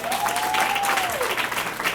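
An audience at a Women's History Month celebration breaks into sustained, dense applause for the first lady, a steady crowd roar of clapping with a brief voice over it.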